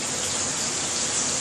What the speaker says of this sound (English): I'll show you how much rain is currently coming down